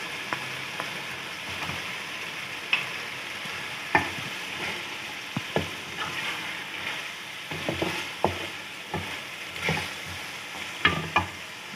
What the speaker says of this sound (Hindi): अब इसको हम अच्छे से 1-2 मिनट के लिए फ्राई कर लेंगे